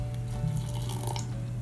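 Hot water is poured into homemade jiggly slime, giving a soft, close trickling and splashing over a low background hum.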